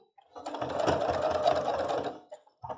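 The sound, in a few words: sewing machine stitching sianinha trim onto a dish towel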